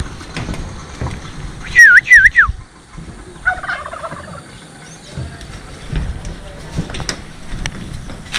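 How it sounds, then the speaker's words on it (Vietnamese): A chicken at a Vietnamese home gives a couple of loud, high warbling calls near the start, followed by softer clucking and scattered household noises, with people talking nearby. "Cho anh em xem cái con gà."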